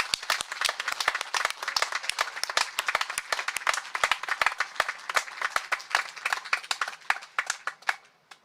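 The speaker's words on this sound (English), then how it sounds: "Let's give them a round of applause." Audience applause for graduates at a 2020 high school graduation ceremony: steady, dense hand clapping from a crowd lasting several seconds, fairly even in loudness and tapering off at the very end.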